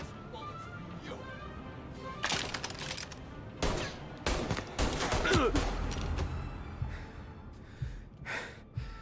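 Gunfire in the Mafia Definitive Edition video game: scattered sharp shots crack out in irregular bursts, some close and loud, mixed with shouting voices and heavy breathing.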